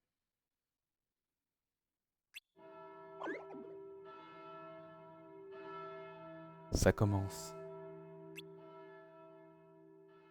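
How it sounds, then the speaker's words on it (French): Church bells toll in the video game Kingdom Hearts χ, with sustained, resonant ringing tones layered and hanging in the air. A brief voice line cuts in partway through. "Les cloches."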